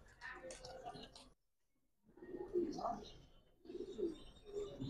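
A Giribaz silver pigeon coos in short soft bursts, close and quiet, with a brief silent gap between phrases and a person talking nearby.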